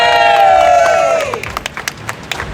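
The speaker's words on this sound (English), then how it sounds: "Can we get a round of applause, please?" A crowd at an outdoor vigil in Concord for people killed in ICE custody lets out a long, rising-and-falling cheer, then breaks into scattered, uneven hand claps that thin out toward the end.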